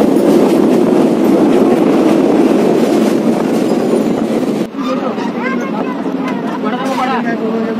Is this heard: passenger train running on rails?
yes